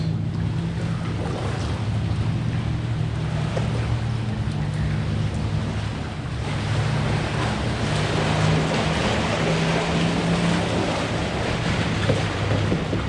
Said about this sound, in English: Ooh, watch these waves